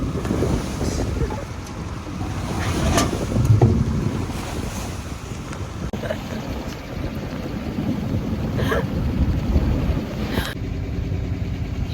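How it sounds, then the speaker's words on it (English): Waves slapping and rushing against a sailboat at sea, with strong wind buffeting the microphone and brief faint voices in a steady loud wash of water and air. "What we didn't lose was the freaking waves."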